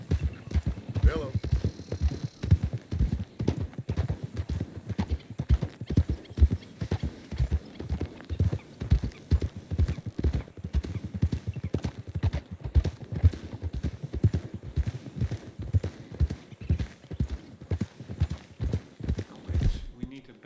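Horse hooves clip-clop in a steady galloping rhythm while riding in Red Dead Redemption 2, loud, close and continuous, with a brief whinny near the start and occasional talk over the hoofbeats.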